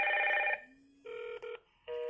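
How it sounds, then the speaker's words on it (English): A Hikvision IP PoE intercom door station rings its bell: bursts of bright electronic tones separated by short gaps, clear and close against a quiet room. "ring the doorbell and see if it works"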